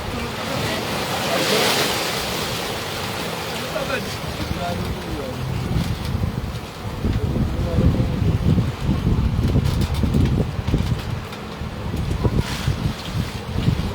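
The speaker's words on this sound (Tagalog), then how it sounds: "Laki ng alon, abot hanggang dito na eh" Large ocean waves surge and crash against a rocky shore, a steady broadband roar of surf with wind buffeting the microphone, recurring swells building louder through the middle.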